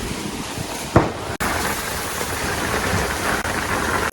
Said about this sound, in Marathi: फुल डेंजर पाऊस आलाय।